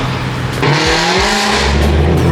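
A Nissan R35 GTR roars loudly and close, a sustained engine sound with shifting pitch sweeps as it revs, briefly edged by a squeal-like tone.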